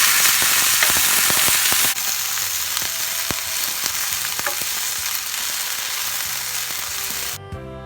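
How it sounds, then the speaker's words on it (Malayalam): Boiled ivy gourd sizzling and frying over a low flame in a pan, a steady loud crackle with occasional scraping and clinking as it is stirred, no voices. "കോവയ്ക്ക ഇട്ടതിന് ശേഷം ഇടയ്ക്കിടയ്ക്ക് ഇളക്കി കൊടുക്കുക."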